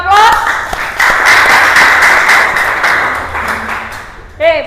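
A classroom of students claps in applause, a dense, steady burst of hand claps filling the room for several seconds before fading, with a voice starting up briefly at the end.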